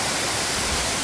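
A large mountain waterfall at Sutaegol on Palgongsan roars as a dense, steady rush of falling water, loud and close, with no voices.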